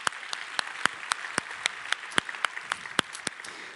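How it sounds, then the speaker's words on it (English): Sparse applause from a conference audience at an ICSE 2018 plenary session, a thin scattering of distinct individual claps ringing out close and sharp in a quiet room. "Let's go ahead and give him a round of applause"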